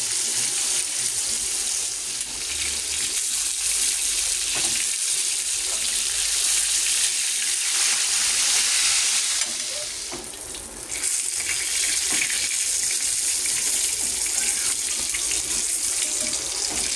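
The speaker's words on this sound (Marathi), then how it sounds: "तीन मच्छी करून आपण तळून घेऊया।" Fish fry in a pan with a loud, continuous hiss and sizzle, steady and close throughout with a brief dip partway.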